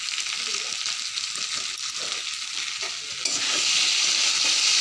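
Masala for a village-style egg and potato curry being stirred and fried in a pan, a steady close sizzle with scraping stir strokes that grows a little louder toward the end.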